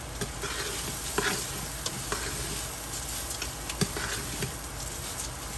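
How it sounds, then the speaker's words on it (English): Rice frying in a pan with spices for Guyanese-style pepper shrimp fried rice, giving a steady close sizzle with scattered stirring clicks and scrapes throughout, no voices. "I'm gonna let this rice, fry up a little bit with all the spices"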